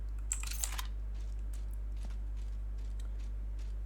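Keys clatter on a computer keyboard during Apex Legends play, faint scattered clicks over a steady low electrical hum, with no talking.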